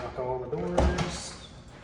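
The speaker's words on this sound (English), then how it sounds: "lock all the doors," A house door is shut and locked during a junk removal before a house closing: one solid thud with a latch click midway, close by, with a voice talking around it.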